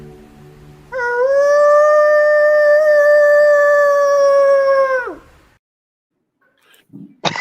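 A man imitates a wolf howl with his voice, one long sustained steady tone lasting about four seconds that bends downward at the end, loud and close, followed by near silence.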